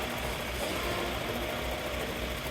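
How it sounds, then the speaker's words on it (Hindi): Mahindra Scorpio gearbox with a suspected bearing and synchro fault, giving a steady, dense mechanical whine and rattle mixed with engine drone, continuous and close for the whole stretch. "गियर का आवाज है।"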